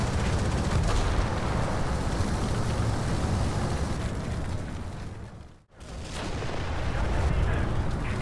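A Maus heavy tank in War Thunder rumbles through dense, continuous booming blasts and rolling explosions, cut by a brief moment of near silence before the heavy roar resumes.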